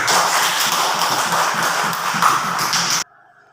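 A classroom of children claps their hands together in a dense, lively burst that holds steady for about three seconds and then stops abruptly.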